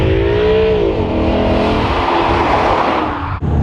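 Maserati GranTurismo engine pulling hard in fourth gear under part throttle, a loud, close, continuous growling roar with a rising tone, alone without voices.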